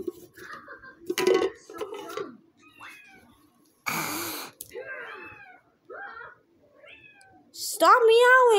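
Repeated cat meows in a Roblox game setting, several short bursts of varying pitch spread across the clip, with voices talking in between.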